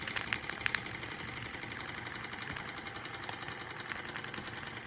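Small Wilesco D455 model steam engine runs with oil spitting toward the boiler, giving a fast, even mechanical ticking and chuffing with a faint background hiss, close and steady throughout.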